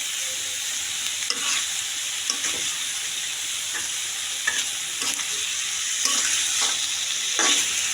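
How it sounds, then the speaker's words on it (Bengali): Chicken feet and gizzards frying in a pan for bhuna, a continuous close sizzle broken by repeated scraping stirs of a spatula at irregular intervals, no talk. "একটু ভেজে নেব আমি"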